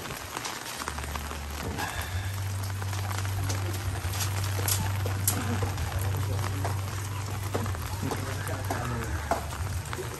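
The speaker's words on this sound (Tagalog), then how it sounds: "Pero ito mahina na lang na ulan to." Light rain falls steadily at a rowhouse work site, giving a soft, continuous patter with scattered drops ticking on surfaces. A low hum runs underneath for most of the time. No talk is heard.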